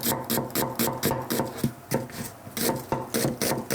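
A knife slices onion thinly on a cutting board in quick, steady, evenly spaced taps, close and clear with no talk.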